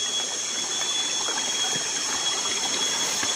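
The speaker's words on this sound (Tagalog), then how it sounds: "Dito nagmula yung tubig po." Spring water from under the ground runs out of a hose on a forested mountainside, giving a steady, close, unbroken splashing flow.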